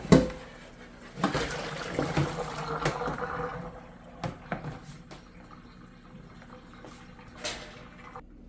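Water splashes and trickles into a cooking pot of dried beans in a home kitchen, with an irregular run of pours, drips and clunks of moderate, close loudness and no talking.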